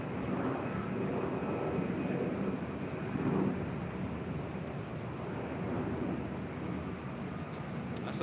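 An Alaska SkyWest Embraer E175 jet takes off from runway 24 left at LAX, a broad, steady roar of engine noise heard from a distance, with some wind buffeting on the microphone.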